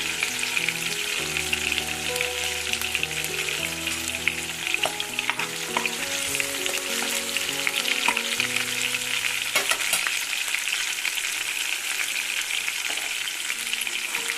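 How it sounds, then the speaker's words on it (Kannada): Ginger-garlic paste spits and splutters in hot oil in a pan for egg bhurji, a loud, steady, close sizzle with dense crackles, and low tones sit underneath during the first part. "ಸ್ವಲ್ಪ ಸಿಡಿಯುತ್ತೆ ನೋಡಿ. ಬೆಳ್ಳುಳ್ಳಿ ಶುಂಠಿ ಪೇಸ್ಟ್ ಹಾಕ್ತಾ ಇದ್ದೀನಿ"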